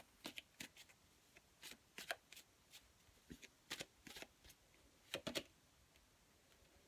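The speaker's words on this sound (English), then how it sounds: "I'm going to pull another card on that." Tarot cards are shuffled and drawn in quick, crisp riffling bursts with sharp flicks and slaps, close and fairly faint over a quiet room, spaced irregularly across the span.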